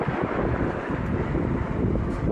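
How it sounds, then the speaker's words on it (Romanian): Wind blows hard across a flood-hit village covered in mud, a loud steady rushing buffet with no voices, lasting a couple of seconds. "Suflă vântul"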